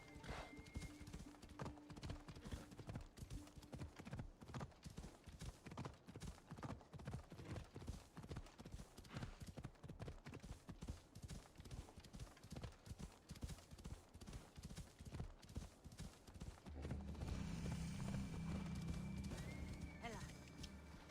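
Steady rhythmic hoofbeats of a galloping horse in Assassin's Creed Odyssey, clear and continuous, with a brief burst of louder rumbling near the end.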